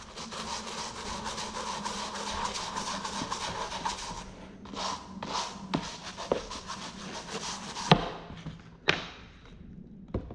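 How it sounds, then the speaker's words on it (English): An all-purpose brush scrubs cleaner on a very dirty shoe, with close, repeated rough rubbing strokes broken by a few pauses and knocks. "That is why I'm using the all-purpose brush versus the brass or the steel one."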